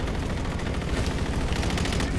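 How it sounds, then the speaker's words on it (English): An energy assault rifle in a shooter video game fires in a dense, unbroken rapid burst, loud and close, with no talk over it. "It looks like it's an energy assault rifle now"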